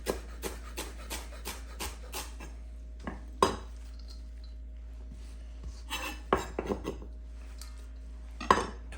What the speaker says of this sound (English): I'll go ahead and rough chop the leaves.